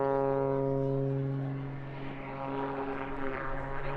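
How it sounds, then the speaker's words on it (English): An Extra EA-330SC aerobatic plane flies a display at an airshow at RAF Cosford. Its propeller engine gives a loud, sustained droning buzz with a steady pitch that dips slightly midway as the aircraft maneuvers overhead. No voices are heard. "This aircraft very much at the cutting edge of the modern unlimited aerobatic art."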